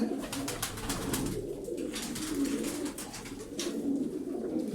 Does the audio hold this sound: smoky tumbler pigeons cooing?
yes